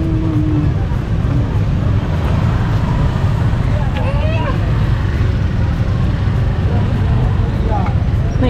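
Busy street traffic in Barabai on an afternoon ride, steady engine drone of passing motorcycles and vehicles throughout, loud and continuous with chatter over it.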